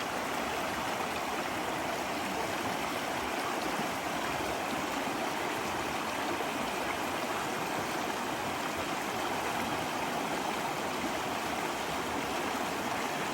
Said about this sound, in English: Deep, slippery water crossing.